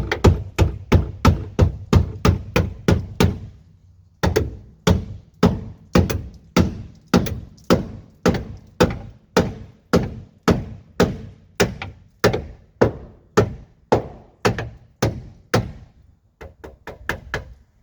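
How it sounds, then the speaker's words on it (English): Steady, loud hammer blows on the inner lip of a BMW E36 rear fender arch, struck in quick rhythmic runs with a brief pause midway and a final short burst. "and I hammer the inner lip up to the upper lip."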